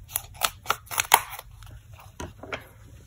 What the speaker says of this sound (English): just use snips to cut a strip from the dimensionals